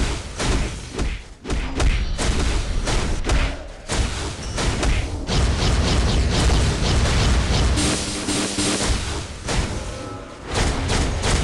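Mr. Sinister's DNA-strain attack in the mobile game Marvel: Future Fight brings a loud, dense run of thumps, bursts and booming impacts over busy game sound, with no one speaking.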